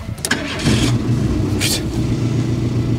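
A cold Renault 5 car engine cranks and fires, then settles into a loud, steady idle with a low rumble and slight revving, close by with no talk.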